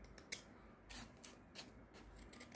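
Scissors snipping thin strips of paper to make a paper flower, a handful of quick, quiet crisp cuts at irregular intervals, close by and faint.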